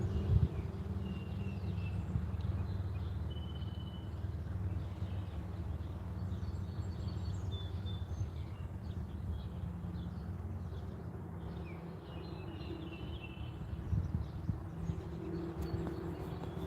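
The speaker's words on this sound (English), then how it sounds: "I hear some birds a chirping" Faint, scattered bird chirps come from a distance over a steady rumble of outdoor wind and ambient noise at Hiway Springs.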